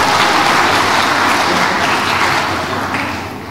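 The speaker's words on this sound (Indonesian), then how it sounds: "Tepuk tangan kita semuanya" An audience at a public lecture at UNPAD university claps together in a dense, loud burst that holds steady, then gradually fades toward the end, with no talking over it.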